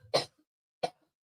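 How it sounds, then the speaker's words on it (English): Two short coughs about half a second apart, close and clear against silence, the first stronger than the second. "I'm going to cough real quick"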